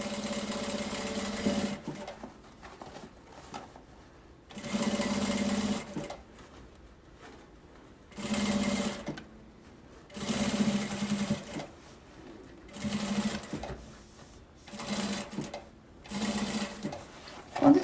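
A sewing machine sews a seam on a children's 3D backpack in repeated bursts of a second or two, each separated by short quiet gaps, close and clear with no voices.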